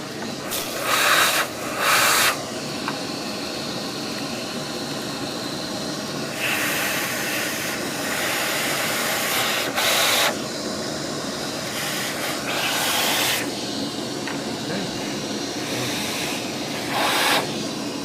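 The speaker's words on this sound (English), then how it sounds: "Now I'm going to vacuum this out." A steady hissing whoosh of a small vacuum cleaning out a Gaggia Unica coffee grinder runs throughout, with louder bursts of airy rushing at intervals as it sucks at something.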